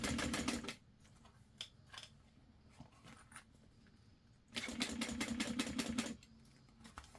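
Sewing machine running a 1/8-inch top stitch along vinyl, two loud bursts of rapid needle chatter at the start and near the end separated by a quiet stretch with faint clicks.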